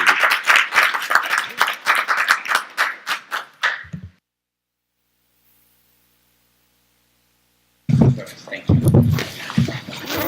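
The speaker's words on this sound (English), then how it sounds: "please give them a round of applause to welcome them" Audience applause at a state psychology board meeting welcoming newly introduced directors; a few seconds of brisk clapping break off into silence before talk resumes.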